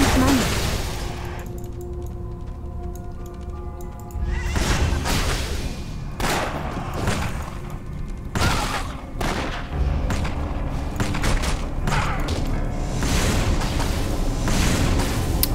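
Repeated explosive shots and booming impacts from combat in the dungeon-crawling action RPG Torchlight, loud and dense over a constant game soundscape, with sharp blasts recurring every second or so.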